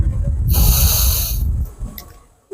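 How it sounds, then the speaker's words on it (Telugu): A single forceful breath is pushed out through the right nostril during alternate-nostril pranayama, a loud hissing rush lasting about a second before fading to quiet. "ఈ కుడి నాభి నుంచి గాలి పూర్తిగా వదలాలి"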